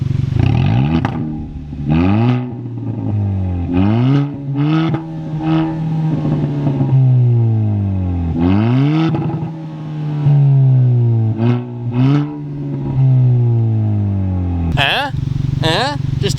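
A 2022 Kia Forte GT engine with its muffler removed revs in repeated loud, raspy bursts that rise and fall, close to the listener, with people talking between the revs.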